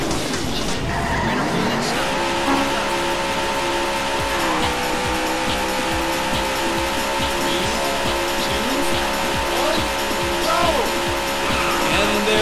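Race car engines in the Daytona USA arcade racing game on the beginner course whine steadily at high pitch, with repeated tire squeals and skids layered over the constant engine roar.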